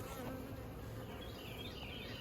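Honey bees swarm around an open hive during a beekeeping inspection, a dense, continuous buzzing close by with individual bees droning past, no voices heard.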